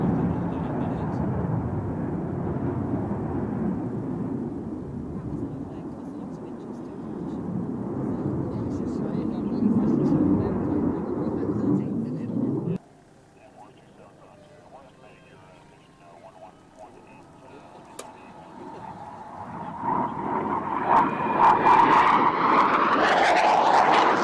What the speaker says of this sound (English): Thank you there, Mark, letting us know about that jumbo jet going into East Mids in about 15 minutes